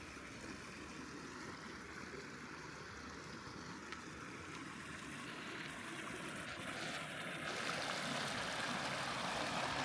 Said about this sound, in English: if it wasn't for these little drops right here, these little waterfalls, if you will, over the rocks, wouldn't hear this river at all